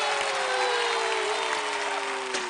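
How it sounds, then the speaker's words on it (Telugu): Applause from an audience, a dense, continuous wash of clapping that holds steady at close range for the whole stretch, with no talking over it. "ఇప్పటికైనా చప్పట్లు కొట్టండి"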